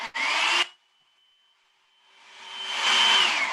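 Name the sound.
hair dryer running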